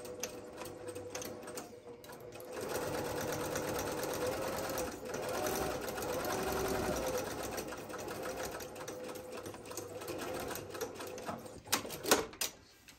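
A sewing machine runs steadily while stitching an organizer tote with handles, a continuous close mechanical whir for most of the stretch, with a few clicks and stops near the end.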